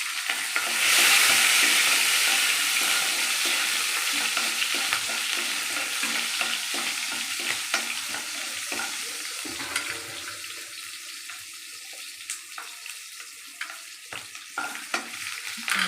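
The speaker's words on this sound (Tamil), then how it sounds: "நல்லா வதங்கட்டும்." Small pounded shallots and three green chillies hit hot oil with popped mustard seeds and fenugreek in a frying pan, a burst of loud sizzle that fades into gentler crackling and occasional stirring scrapes.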